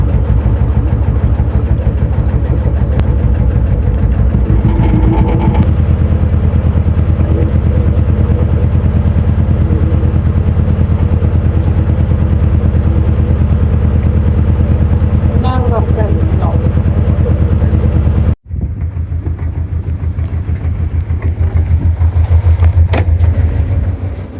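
A narrowboat's diesel engine chugs loud and steady near the weirs, with a brief cut before it picks up again as it goes back into gear.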